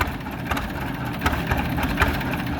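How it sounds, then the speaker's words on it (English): A 1931 John Deere GP large-bore tractor engine runs steadily nearby, a low continuous chugging with a fairly even rhythm and occasional slightly louder beats, with no talking over it. "It's a 1931 John Deere GP large bore tractor."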